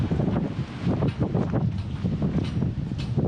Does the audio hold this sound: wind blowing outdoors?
yes